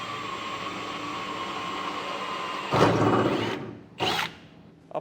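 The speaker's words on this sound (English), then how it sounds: "We're going to drill right up through that and make a pilot hole." A power drill bores a small pilot hole up through a pickup truck bed while installing an underbed fifth-wheel hitch, a steady whine for nearly three seconds, then a loud burst and a second short burst near the end.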